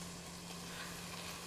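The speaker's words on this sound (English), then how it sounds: "let it sizzle for 5 minutes" Dried chilies sizzle in a pan, giving a soft, continuous crackling hiss that stays even and fairly quiet throughout, with no voices.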